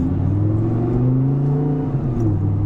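Audi R8 engine on a first drive, a steady loud mechanical drone with smooth rising and falling pitch as the car accelerates, close and continuous throughout with no talking.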